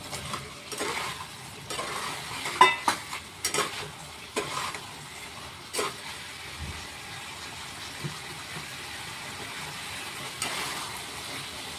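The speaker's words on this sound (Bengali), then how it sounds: "এবার মাংসটাকে ঢেলে দিচ্ছি।" Meat tipped into a hot pan sets off a sizzle, followed by scraping stirs and bursts of frying that rise and fade, then a lower, steadier crackle with no talking.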